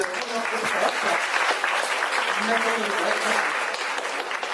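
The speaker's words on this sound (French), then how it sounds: "on peut déjà applaudir les jurés" Spectators at a Breton gavotte and Keff dance competition applaud the jury with steady, close, continuous clapping, and voices murmur underneath.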